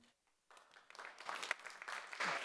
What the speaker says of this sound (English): We're not going to do a prolonged clapping.